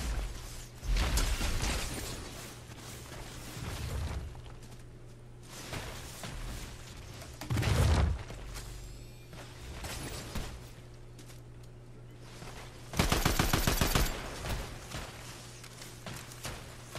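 Gunfire in the Fortnite video game, heard as scattered bursts of shots over a steady low game hum, ending with a louder rapid-fire volley.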